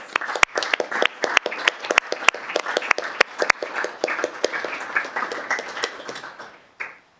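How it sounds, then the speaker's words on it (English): Audience at a City of Mandurah council meeting applauds the local Scouts; a scattered round of claps from a modest crowd with some sharp individual hand strikes, tapering off and fading out toward the close. "Can we give them a massive round of applause?"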